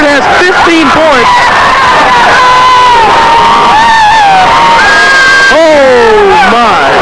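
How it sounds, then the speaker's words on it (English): High school basketball crowd in a 1994 game roaring and cheering after a slam dunk, a loud continuous wall of shouts, whoops and shrill young voices swelling throughout. "The crowd goes ballistic."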